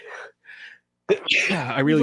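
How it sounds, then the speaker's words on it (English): A single close sneeze comes after two short breathy intakes. Talk and laughter from a sports show host and guests follow at once. "sneezed. Bless you"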